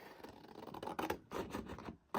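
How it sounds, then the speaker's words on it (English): Scissors cut material for a handmade embellishment book cover, making a quick series of close, crisp snipping clicks in a quiet room. "this is where you get your scissors"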